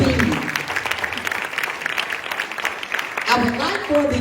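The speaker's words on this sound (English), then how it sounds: "So let's give a round of applause to the Drew County Executive Committee team." A banquet audience at a county Freedom Fund dinner applauds steadily with a crowd-wide patter of clapping, while voices speak over it at the start and again near the end.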